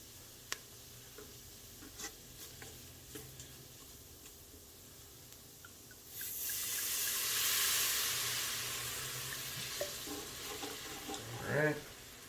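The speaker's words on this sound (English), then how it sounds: "I'm going to deglaze with about a 1/4 cup of white wine" White wine poured into a hot pan while cooking butternut squash soup: quiet stirring taps at first, then a sudden loud hissing sizzle swells for several seconds before fading under scraping.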